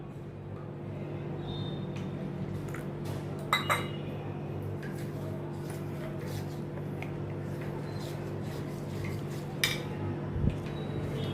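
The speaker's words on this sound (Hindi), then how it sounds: "अभी इन सभी को अच्छी तरह से मैं मिक्स करके इनका मैं पतला घोल बनाती हूँ।" A spoon scrapes and clinks against a bowl while chili powder and red chili flakes are mixed into a thin batter for crispy potato wedges. The clinks are scattered and close, with a few sharper knocks over a low steady hum.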